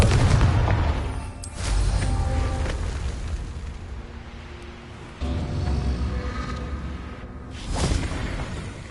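A Confringo fire spell explodes in Hogwarts Legacy, a video game: loud, booming blasts with a heavy rumble, one near 1.5 seconds and another around 5 seconds, each followed by a long, rolling decay.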